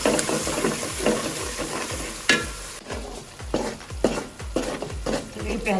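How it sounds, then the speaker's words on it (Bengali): Noodles frying in hot oil in a pan alongside onions and packet noodle spices, with a steady sizzle broken by repeated scraping and stirring strokes of a spatula, close and fairly loud. "তেলের উপর ভেজে নিচ্ছি।"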